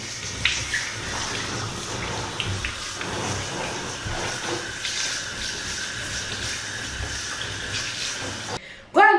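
A lemon and sugar scrub is rinsed off skin under running water, producing a steady splashing hiss that ends abruptly in a brief clatter.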